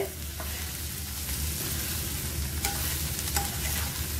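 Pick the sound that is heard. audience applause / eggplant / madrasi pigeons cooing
eggplant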